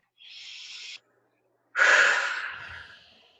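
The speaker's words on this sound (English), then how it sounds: "just take a deep breath and just breathe that out" A single deep breath drawn in through the nose and then released in a longer, louder exhale, close and alone with a brief pause between the two.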